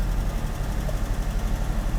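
A Mercedes W123 230E, just repaired after a fuel distributor fault, idles with a steady low rumble and slight roughness, close and fairly loud.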